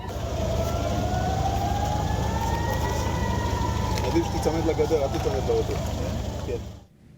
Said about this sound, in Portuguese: os cidadãos de Tel Aviv buscaram abrigo, enquanto as sirenes tocavam, alertando para o lançamento de foguetes